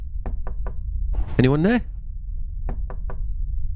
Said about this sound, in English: Oh, we can knock.